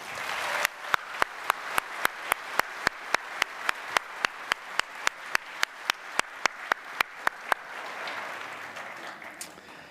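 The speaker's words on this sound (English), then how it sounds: "can I just ask you to all join me in a round of applause" At a university graduation ceremony, the audience applauds the graduation band: a run of sharp, evenly spaced claps in a steady rhythm gives way near the end to looser, fuller crowd applause.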